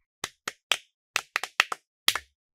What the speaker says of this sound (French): Pouvez-vous applaudir pour Gift?